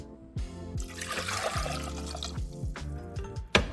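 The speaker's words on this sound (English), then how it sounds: "And then I'm going to add 2 cups of water." Water is poured into a pot for lemon jam, a soft trickling splash over a few seconds, close and fairly quiet, with a few clinks and knocks of the pot and utensils mixed in.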